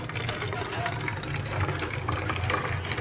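Liquid is poured into a used spray bottle, giving a steady trickling, splashing fill sound close by for a few seconds while a person talks over it.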